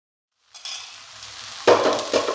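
Dosa batter scooped in a ladle hits a hot pan with a sudden sizzle, then a louder hiss and scrape of the ladle as the batter spreads.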